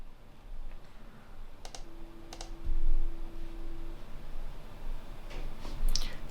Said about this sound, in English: here I'm typing some passwords